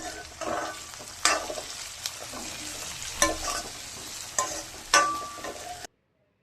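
Onions and potatoes frying in a pan for North Karnataka-style poha, with a close sizzle and several sharp stirring scrapes and clatters before an abrupt cutoff.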